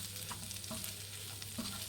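Chicken sizzles steadily on a hot tawa, street-food style, with butter just added and occasional scraping stirs of a spatula cutting through the continuous frying hiss.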